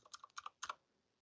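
Keystrokes on a computer keyboard as someone types, a quick uneven run of close, soft clicks in small bursts, alone with no voice.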